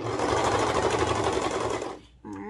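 A sewing machine runs fast and loud, stitching a cuff onto sweatpants, with a steady rapid whir that stops near the end before a brief voice.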